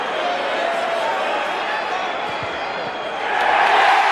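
A rugby league crowd during a St Helens versus Wigan match reacts to a kick at goal, a dense steady roar that swells louder near the end, with no break in the noise.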